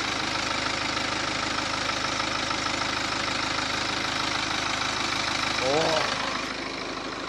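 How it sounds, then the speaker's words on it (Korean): BMW 4 Series diesel engine idling, a steady, loud low rumble from close by, with a short exclamation from a person near the end. "이 차량 바로 이제 엔진 소리부터 들려드릴게요."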